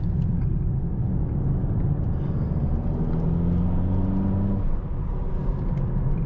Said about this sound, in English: Also the sound is better with this car.